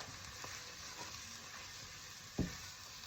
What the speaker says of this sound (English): now I'm going to add my spices into this and start to create our paste